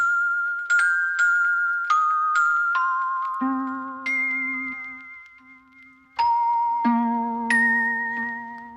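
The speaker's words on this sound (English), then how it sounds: "So it's like a stacked bells with some piano in there" Layered bell-like synth tones with a piano-ish attack play a slow melodic phrase, each note chiming and decaying, with low notes entering midway.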